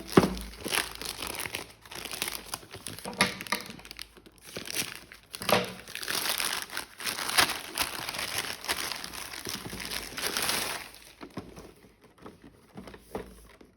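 Plastic packaging crinkles and rustles close by in irregular bursts, with handling and tearing-like crackles, fading to near silence at the end.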